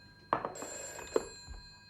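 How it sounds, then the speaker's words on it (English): An old telephone bell rings indoors in a 1971 drama, a sharp jangling burst followed by a second ring, moderately close over quiet room tone. "Phone."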